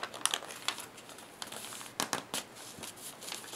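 Sheets of paper being creased and folded by hand while an origami book takes shape, giving soft crinkles and a few sharper crackling snaps at close range, with no talking.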